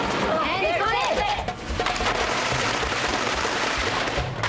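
Firecrackers crackle and pop in dense, rapid bursts during an outdoor team challenge in Taiwan, with voices shouting over the noisy barrage throughout.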